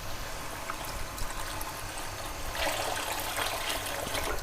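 Water poured into a cooking pot, about two and a half to three litres added to a kadhi mixture, a steady broadband splashing stream that grows fuller and louder partway through, with no talking.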